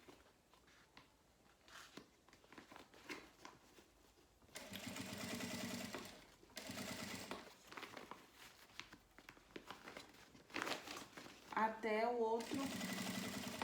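A sewing machine stitches closed a fabric box in quick whirring runs separated by pauses, close and fairly loud, while someone speaks briefly in Portuguese.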